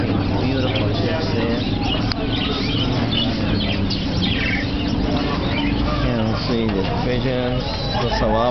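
Doves and pigeons cooing among other chirping birds in an aviary, a dense continuous chorus of calls over steady background noise, fairly loud and close.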